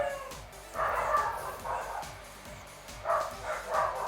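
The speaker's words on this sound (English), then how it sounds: "Apologies for the dogs in the back." Several dogs bark and yip in short bursts in the background, moderately distant, with gaps between the outbursts, during an online Pokémon match broadcast.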